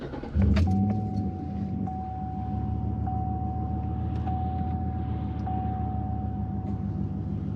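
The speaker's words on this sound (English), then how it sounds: "We can go ahead and start the truck up too if we want." A pickup truck with a 5.3L V8 cranks and catches, a sharp burst at the start settling into a steady close idle rumble, with a thin electronic tone chiming at regular intervals over it.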